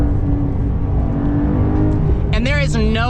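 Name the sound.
2023 Porsche Carrera T six-cylinder engine revving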